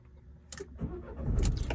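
A 2019 Renault Kangoo Maxi with a 1.5 diesel engine is started: a short clatter of keys, then the starter cranks and the engine catches into a low rumble that builds louder toward the end.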